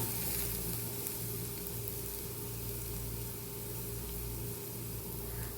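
Onion and rice sizzle in oil for kuzhi paniyaram, a faint, even hiss over a steady low hum, with no speech.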